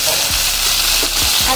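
Ginger-garlic paste sizzles steadily in a hot pan, a dense hiss with a few low thumps of stirring at the bottom of the pan, close and fairly loud.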